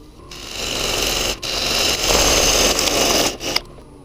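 A wood lathe rough turns a moldy maple blank with a dull gouge, making a loud, continuous scraping roar with brief dips as the tool lifts off, then stops abruptly.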